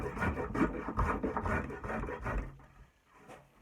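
A spokeshave scrapes back and forth along a hickory handle, giving rhythmic woody rasping strokes close by that trail off near the end, with no talk.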